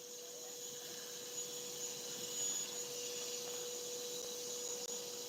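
A bee vacuum draws honeybees out of a hive through its hose, giving a steady, loud, even whir with a constant tonal hum and no voices over it.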